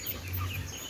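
Chickens cluck softly on a poultry farm, a brief murmur of several birds at moderate distance with no talk.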